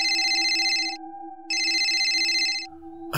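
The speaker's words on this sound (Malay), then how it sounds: "Tiba-tiba telefon Ajis berdering-nyaring." A telephone rings with a loud electronic trill in two bursts, each close to a second long, with a steady tone underneath and a short pause between the bursts.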